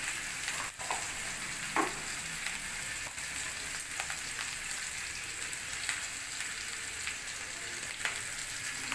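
Okra frying with turmeric and salt, stirred in oil: a continuous soft crackling sizzle broken by several sharp scraping strokes of a spatula, close and unaccompanied by talk.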